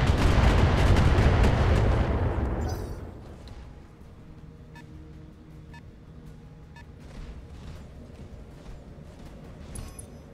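Artillery fire in BattleTech opens with a loud, dense barrage of booming blasts for the first few seconds, then drops away to quieter scattered thuds and faint clicks over a low background hum.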